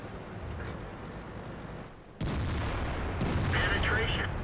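A tank gun fires in the World of Tanks video game, giving two sharp heavy reports over constant battle rumble, the second blast louder and followed by a lingering roar, while a voice talks faintly underneath.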